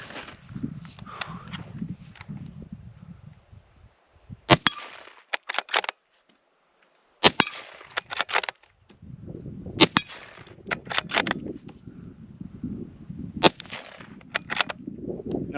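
A Ruger American .308 rifle with a feeding problem fires at an outdoor range. Several sharp, loud single shots come at irregular intervals, with mechanical clatter, shuffling and handling noise between them, and no talk.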